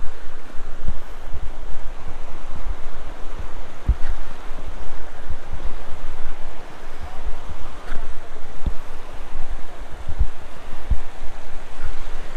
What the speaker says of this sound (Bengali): এই যে পাহাড়ি নদী, ঝর্ণা একটা হলদ, এখান থেকে পাহাড় থেকে ঝর্ণাটা আসছে।